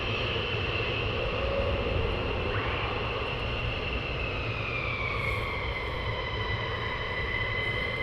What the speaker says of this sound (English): you hear the aircraft start up and you kind of guess how many are going to be coming out